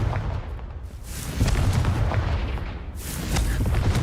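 Confringo spell blasts in Hogwarts Legacy, fiery explosive bursts: heavy rumbling booms swelling at about one and a half and three seconds over a continuous loud roar, with no talk.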